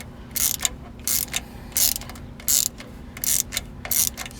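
A ratchet draws the two shouldered bolts into the crank-driven power steering pump on a 1969 Lincoln Continental Mark III. Six short, close bursts of clicking sound at a steady rhythm, with brief pauses between them and no talking.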